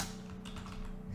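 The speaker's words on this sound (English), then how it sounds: "we write the presenter's name, by Martha G." Computer keyboard typing while entering a presenter's name in a PowerPoint home decor design, a steady run of soft clicks over a low background hum, with no talking.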